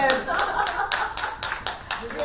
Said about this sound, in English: Let's give an applause to him.